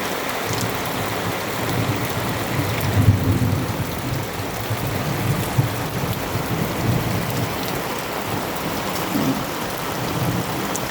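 Steady afternoon rain pouring down outdoors, a continuous dense hiss of drops on surfaces with low rumbling underneath, constant in level throughout and free of voices.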